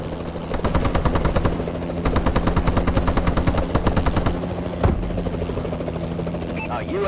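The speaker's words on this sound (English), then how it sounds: "Friendly Warbird in the air." In Call of Duty Advanced Warfare, a Warbird aircraft thrums overhead while rapid machine-gun bursts and gunfire crackle in loud, repeated volleys, with game voices and battle noise mixed in.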